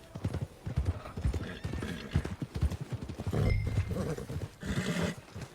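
Horse hooves clip-clop at a steady walking rhythm in the Red Dead Redemption 2 video game, close and fairly loud, with a horse whinnying partway through.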